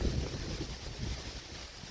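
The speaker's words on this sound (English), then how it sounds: "It's quite windy." Steady wind roars and buffets across the whole clip, with low rumbling gusts, as if heard outdoors on open water.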